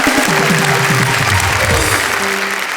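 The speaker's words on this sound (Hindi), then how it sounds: "तालियां हो जाए" Audience applause with steady clapping throughout, loud and close, fading slightly toward the end.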